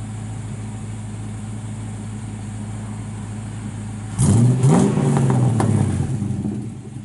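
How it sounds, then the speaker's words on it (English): A 1953 Chevrolet 3100 five-window truck with an LS engine, six-speed and dual exhaust with stainless mufflers idles steadily, then is revved hard in a loud burst that settles into a high, rough rumble. "Good sounding truck."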